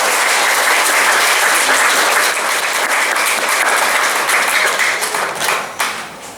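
A church congregation applauds during a Pentecost first-communion Mass, a dense, steady wash of clapping that fills the whole stretch, loud and close, easing slightly toward the end.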